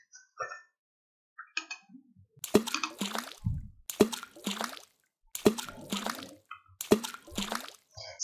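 Several wet drips and plops of spring water fall into a cup in a loose series while pouring, each a short splashy burst with trickling liquid in between, close and fairly quiet.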